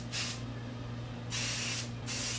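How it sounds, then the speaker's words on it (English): Two short bursts of Vibrant Sexy Hair hairspray misting from a can onto long fine hair, soft close hisses with a low steady hum underneath. "this hairspray that I use is Vibrant Sexy Hair"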